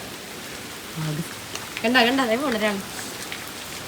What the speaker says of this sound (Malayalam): ഇപ്പോഴും നമുക്ക് ഭയങ്കര മഴയാണ്